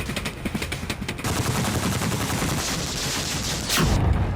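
Rapid gunfire from a Russian BMPT Terminator armoured vehicle in an animation, first as quick bursts and then as a dense, continuous rattle of shots with a heavier boom near the end.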